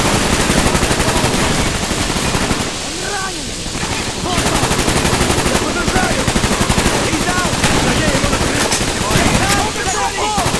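Dense, loud automatic gunfire and machine-gun bursts from the Call of Duty: Black Ops prison escape battle rattle continuously throughout, with shouted voices mixed in among the shots.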